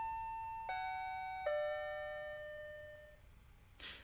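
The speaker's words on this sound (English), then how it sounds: "After Aki rang the doorbell, the door opened" An apartment doorbell in the video game Shining Song Starnova chimes two electronic tones clearly, each note ringing out and fading, followed by a brief soft rustle; no voices.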